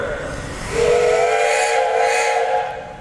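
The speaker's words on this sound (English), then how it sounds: "Hey guys, you got a whistle up there." A loud steam traction engine whistle at a threshers' steam show in Wauseon, Ohio blows one long sustained note after a brief hiss, holding steady for about two seconds before tapering off.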